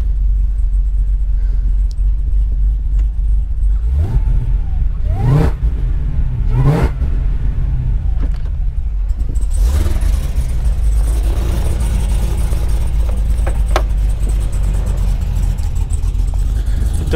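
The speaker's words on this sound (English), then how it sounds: "it does have a really smooth, consistent idle. Sounds very healthy." A 2013 Cadillac CTS-V engine runs with a steady low rumble, a few revs rising and falling briefly before settling back into a smooth, even idle.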